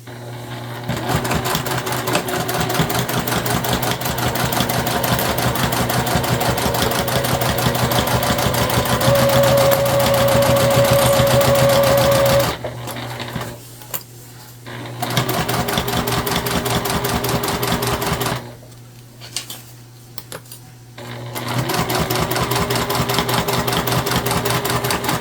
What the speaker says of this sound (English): our fabric is right sides together and we're just sewing right on top